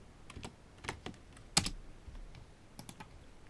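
Computer keyboard keys tapped in short bursts of a few quick clicks, ending with a sharper, louder press of the Enter key, while a spreadsheet chart slice angle is set; close and fairly quiet, with no voices.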